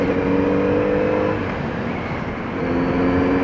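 An Audi RS6 station wagon goes by on the road, a steady engine drone with a dip in the middle before the engine note rises again, close and loud, no talking.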